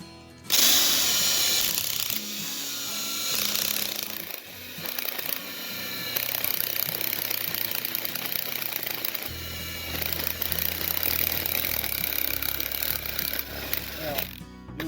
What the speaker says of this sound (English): you're going to be drilling that hole just deep enough to where it meets with the center hole